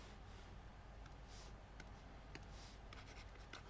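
Chalk or marker scratching across a board in a physics or mechanics classroom, steady continuous strokes with a few sharp taps, faint and close, no talking over it.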